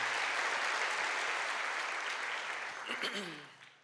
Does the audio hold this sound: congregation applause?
yes